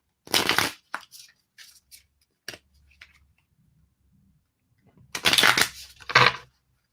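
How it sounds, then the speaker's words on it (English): Waterproof plastic playing cards are riffle shuffled in a few quick bursts of crisp flapping and clicking, a short rattle at the start and a longer riffle followed by a bridge snap near the end, with quiet gaps between. "I'm going to do a riffle shuffle"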